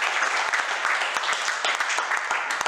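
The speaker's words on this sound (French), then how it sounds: "Vous pouvez applaudir Alain quand même." Warm applause from a crowd at a sports club's New Year greetings event honouring a departing member, many hands clapping in a steady dense patter with a few sharper claps standing out, no voices over it.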